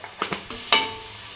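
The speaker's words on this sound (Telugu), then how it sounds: "ఉల్లిపాయలు వేగుచుండగా అందులోనే పచ్చిమిరపకాయలని కూడా యాడ్ చేసుకోవాలి" Sliced onions and green chillies frying in oil in a pan, a few short scraping stir strokes and then a sharp hiss that fades out, close and moderately quiet, with no talking.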